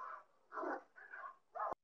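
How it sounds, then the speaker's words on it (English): Several dogs bark in short separate bursts, four spaced yips and barks, fairly quiet and somewhat distant, with no talk over them. "There's dogs barking."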